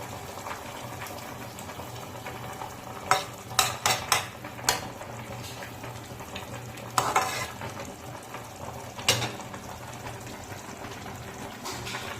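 Morola fish sizzling and frying in hot oil in a pan, a steady loud crackle with several sharp clinks of a utensil against the pan.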